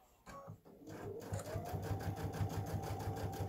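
A sewing machine stitching quilt binding with a half-inch seam allowance, starting after a few handling bumps and settling into a steady rapid needle whir, close and moderately quiet with no speech.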